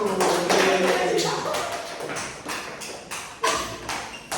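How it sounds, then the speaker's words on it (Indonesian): A classroom claps for group 1, an uneven patter of hand claps from a small group that is loud at first, then thins into scattered separate claps, with a few voices mixed in. "Tepuk tangan untuk kelompok 1"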